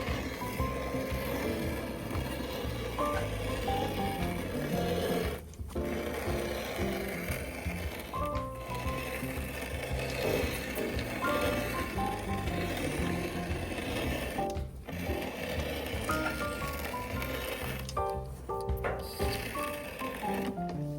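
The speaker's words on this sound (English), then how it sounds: "The welting pliers that are on the machine, it pushes that welt down against the sole, and people love the sound." A shoe repair welting machine presses a leather welt down against the sole of vintage golf shoes being re-crafted, giving off a steady, dense mechanical clatter with a few short pauses and no talking.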